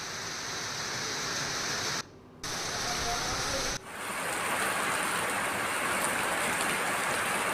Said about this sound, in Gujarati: દાંતામાં ક્યાંક વીજળીના કડાકા બડાકા તો ક્યાંક ધીમી ધારે સતત વરસાદ વરસતો જોવા મળ્યો